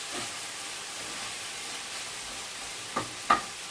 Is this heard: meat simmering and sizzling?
yes